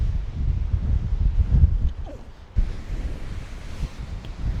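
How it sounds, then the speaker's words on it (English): Strong wind buffets the microphone on a mountain top above the water, a loud, gusty rumble that swells and drops, with a brief lull before it surges again. "God damn, it's fucking windy."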